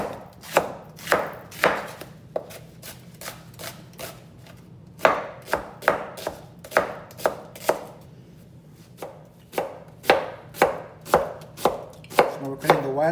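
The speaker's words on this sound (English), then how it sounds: "So we're cutting the white onion thin." White onion cut into thin slices on a cutting board, with a knife striking in sharp, evenly spaced chops and short pauses between runs, close and clear with no talking.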